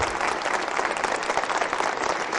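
A standing conference crowd claps harder when urged, producing loud, dense, continuous applause that fills the hall throughout.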